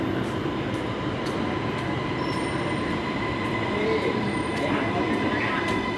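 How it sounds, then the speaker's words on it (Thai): A metro train rolls into Bang Wa station on Bangkok's MRT Blue Line with a steady rumble and high metallic wheel squeals, a busy station hum underneath, no talking. "รถไฟมาแล้วนะครับรถไฟมาแล้ว"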